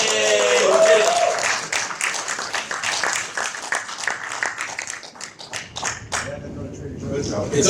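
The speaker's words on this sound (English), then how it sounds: "It's always awkward when the round of applause stops as the person is still walking down." Audience applause at a gaming panel on Godzilla: Kaiju Wars: a burst of clapping from a crowd that tapers off over several seconds, with scattered claps and speech heard beside it.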